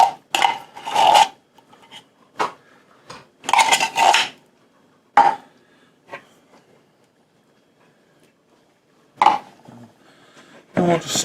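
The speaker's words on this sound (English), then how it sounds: "And we'll just stir this up." Sweetened condensed milk and cocoa stirred together with a utensil, giving bursts of scraping and clinking against the container separated by quiet pauses, close and fairly loud.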